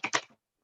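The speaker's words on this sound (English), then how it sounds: "tell me when to stop shuffling" A quick, crisp shuffling burst of rustling clicks lasts under half a second at close range, then cuts to silence.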